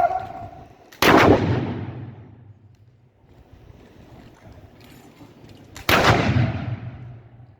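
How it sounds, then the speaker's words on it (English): Historical rifles fire in a skirmish display during a drill and shoot demonstration at Landguard Fort, Felixstowe: two loud, sharp shots about five seconds apart, each with a long rumbling echo. "they're just holding ground with skirmish fire"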